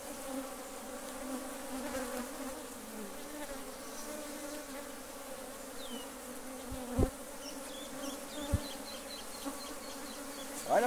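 Honey bees swarm and drone steadily around an open beehive being worked for honey, a dense continuous hum close by with a few sharp knocks and clicks from handling the hive.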